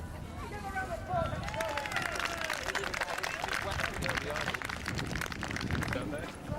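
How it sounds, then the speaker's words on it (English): Audience applauding a drill squad at Dover Castle: dense, sustained clapping from a crowd mixed with chatter and background noise, fairly loud and continuous. "Give a round of applause"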